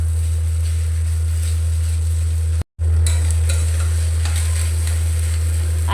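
Grated potato cooked with spices is stirred in a dry pan without oil, a close, constant frying hiss with light scraping over a low electrical hum, cut by a momentary dropout midway.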